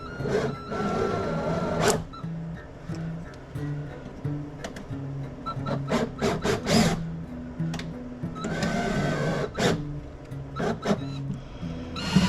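Small parts being screwed into a tiny motorized fan for a Barbie dollhouse, heard close up as bursts of buzzing, whirring mechanical noise and clicks over a steady low hum.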